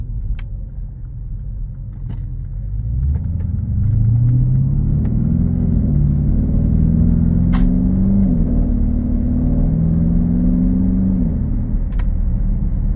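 A 2014 Porsche Cayenne Turbo S engine hums steadily from inside the cabin in sport mode, rising in pitch as it accelerates, with low road rumble and occasional small clicks.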